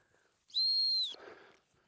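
A single short, sharp high-pitched dog-training stop whistle blast, clear and fairly close, followed by brief faint rustling.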